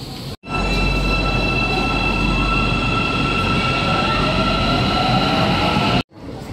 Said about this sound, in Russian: Станция метро Таксим.